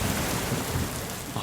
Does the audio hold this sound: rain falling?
yes